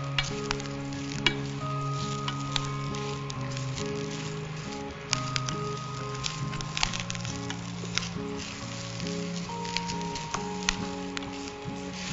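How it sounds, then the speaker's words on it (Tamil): Curry leaves and lentils fry to a crisp in a pan, giving a continuous close crackling sizzle with scattered popping spits and occasional stirring scrapes that run unbroken for about twelve seconds with no voices. "இந்த கருவேற்பிலை மட்டும் இன்னும் கொஞ்சம் கிறிஸ்பி ஆற வரைக்கும் நம்ம ஃப்ரை பண்ணிக்கலாம்"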